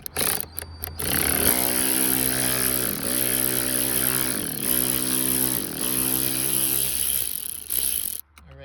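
A power driver with a 7mm socket spins out a bolt holding an interior panel in a 2005-2008 Mustang fitted with a 2014 Mustang interior. A steady, loud whirring runs for several seconds with slight pitch dips, then stops abruptly.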